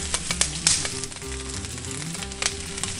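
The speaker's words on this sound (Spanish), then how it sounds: "En un comal caliente asamos jitomates, unos jalapeños y unos dientes de ajo con todo y cáscara" Tomatoes, jalapeños and unpeeled garlic cloves roast on a hot comal, giving a close, continuous sizzle and crackle with small pops, no voices over it.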